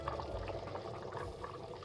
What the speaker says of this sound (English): If you guys can see, it's boiling now.